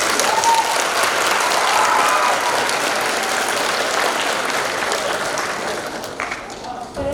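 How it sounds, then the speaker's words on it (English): A school spring concert audience in a middle school venue gives a sustained round of dense clapping that holds steady, then thins and tapers off toward the end. "Let's give her a round of applause."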